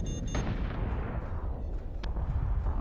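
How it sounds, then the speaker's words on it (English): Gunfire strikes a ship in the space battle game Battlestar Galactica Deadlock, a loud burst of rapid shots followed by heavy rumbling impacts and a sharp hit, without talk. "that's gunfire getting through"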